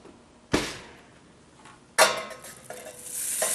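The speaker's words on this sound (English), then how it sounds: "We're going to brown and crisp the tofu even further by putting it in the oiled pan." Tofu pieces hit a hot oiled pan with a sharp sizzle, then a second louder burst of frying as more goes in, with stirring and pan clatter under a steady crackle.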